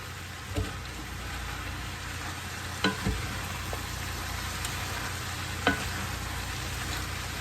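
Vegetables sautéing in a pan for a low-carb meal give a steady, moderate sizzle, with a few sharp utensil scrapes and clicks as they are stirred now and then.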